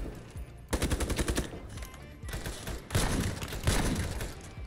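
Rapid automatic fire from a Training M4 rifle in a first-person shooter game, loud sustained bursts of gunshots in several long volleys separated by short pauses.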